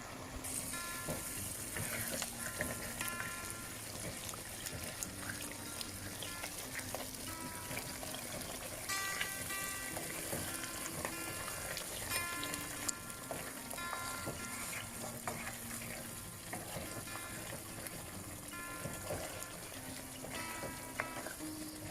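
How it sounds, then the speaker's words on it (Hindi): Mutton karahi cooking with yogurt bubbles and sizzles in a pan, a faint, steady wet hiss and crackle with occasional stirring scrapes, no voices. "अब हमने इसी तरह इसको दोबारा से 5 मिनट तक भूनते रहना है"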